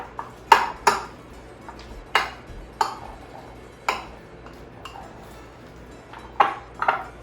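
Pepper popper filling being mixed in a bowl: a spoon knocks and scrapes against the bowl in a run of separate clinks at an uneven rhythm, close and fairly loud, with no talk.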